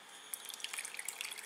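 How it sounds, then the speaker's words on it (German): Water is poured into a plant saucer under a potted kumquat seedling, giving quiet, close, irregular drips and small splashes with no talk. "Da kommt Wasser rein."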